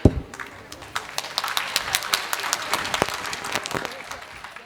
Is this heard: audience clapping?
yes